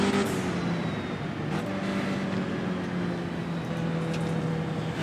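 Race cars in an AI-driven sim racing game roar together in a continuous engine drone, with steady tonal whine from several cars mixed into a dense, constant wash at moderate loudness, no talk.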